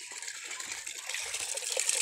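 Water gushing steadily into a household storage container being filled with collected water, a continuous hissing rush with faint splashing throughout, alone without talk.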